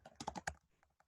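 A name is typed on a computer keyboard as a short quiet run of crisp key clicks, a quick cluster of taps followed by a few softer strokes.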